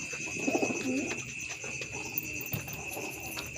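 Soft coos of young pigeons repeat a few times at close range over a steady background hum and faint high-pitched insect-like whine.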